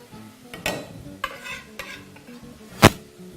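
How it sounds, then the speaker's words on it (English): Ginger, garlic, onions, celery and carrots stirred in a pan for a vegan potato and pea curry, a few scraping strokes with a soft sizzle, ending in one sharp loud clank of utensil on pan, close and with no talking. "I'm going to give this a stir."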